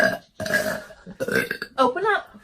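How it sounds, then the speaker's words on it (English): A loud, close burp rumbles out in a couple of voiced bursts, with speech-like vocal sounds mixed in around it. "Burp."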